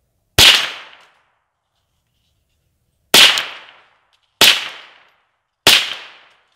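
Four sharp, loud gunshots from a firearm fired at a pumpkin, one alone then three in a quicker spaced run, each a crisp crack with a short fading tail and silence between.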